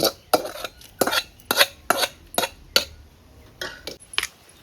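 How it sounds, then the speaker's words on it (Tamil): Tamil village-style sorrel greens (puliccha keerai) kadaiyal mashed in a pot with sautéed ingredients: about ten sharp, separate clacks and scrapes of a masher against the vessel in an uneven rhythm, close and fairly loud with no talking. "வேக வச்ச புளிச்ச கீரையில் நம்ம வதக்கின எண்ணெயில் போட்டு வதக்கின எல்லா ஜாமானியும் அதில் போட்டு நல்லா கடைய வேண்டியதாங்க"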